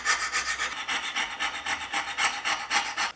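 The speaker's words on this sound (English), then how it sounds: "So my scraper with a fresh burr is going to do the initial rust removal." A homemade card scraper with a fresh burr scrapes rust off the iron of a Winchester No. 3041 transitional smooth plane, making steady rhythmic rasping strokes, about a dozen quick back-and-forth passes, close and fairly loud with no talk.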